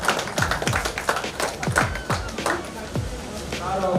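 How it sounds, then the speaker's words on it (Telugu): Scattered applause greets a guest at a school alumni reunion: a handful of distinct claps come through over a voice speaking. "చప్పట్లతో స్వాగతించాల్సిన కోరుతున్నాం"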